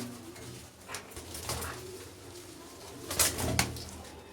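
Soft pigeon coos rumble in the background while a few sharper bird calls and rustling bursts pop up nearby.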